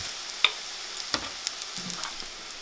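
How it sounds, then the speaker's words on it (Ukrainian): Green onion and egg pancake batter frying in a skillet, a soft steady sizzle with scattered small pops and crackles, close and fairly quiet, no voices. "викладаємо ложку на сковорідку та смажимо"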